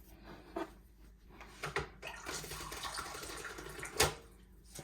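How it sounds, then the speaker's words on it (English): Warm water pours into a blender in a kitchen while stir-fried quails with Thai holy basil are being made, a faint, uneven splashing trickle with a few small clunks. "Now I'm gonna add some warm water in there."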